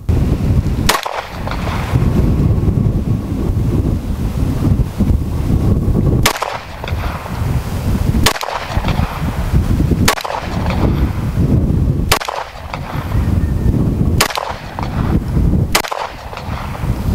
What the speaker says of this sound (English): So we're going to take a few shots from 15 yards offhand and see what kind of groupings we get.